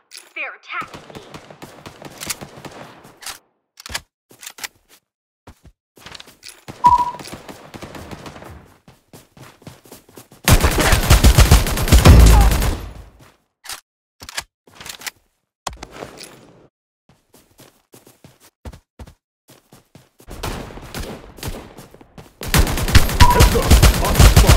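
Enemy gunfire in a video game survival mode, heard as loud sustained bursts of automatic fire in two long stretches, with scattered sharper shots between them and a voice talking over the quieter parts.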